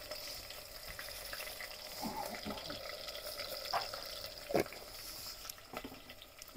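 Mustard seeds pop and sputter in hot oil alongside curry leaves and green chillies, a faint steady sizzle broken by a few sharp crackles, heard at close range in a home kitchen.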